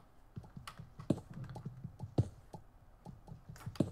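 Quiet, close typing on a computer keyboard, irregular clicking keystrokes with a few sharper, louder taps spaced through the passage, and no talking.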